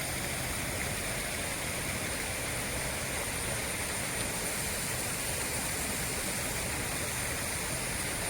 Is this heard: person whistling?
no